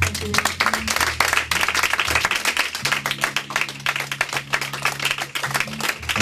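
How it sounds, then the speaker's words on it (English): Church congregation clapping hands as an offering during a worship service, a dense continuous patter of many hands with voices and sustained tones underneath. "Give the Lord a hand clap offering."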